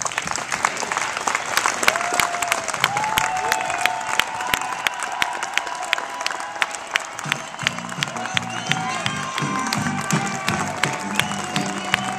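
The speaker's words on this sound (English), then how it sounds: "I think they all need a huge applause if we could get that." Sustained crowd applause with cheering and whistles at an outdoor Tea Party rally in Tucson, steady and dense throughout, with scattered voices in the mix.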